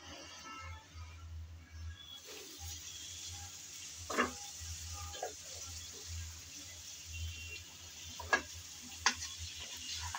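Pointed gourd for doi potol simmers in a covered pan with a soft, steady frying sizzle, faint and close, broken by a few light clicks and taps.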